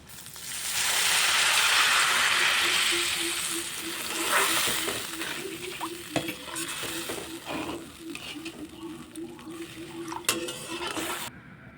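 Fish curry for a Bengali village-style silver carp mustard dish stirred in a pan as gravy is poured in, giving a broad rushing sizzle up front, then scraping and clinking of a spoon against the pan.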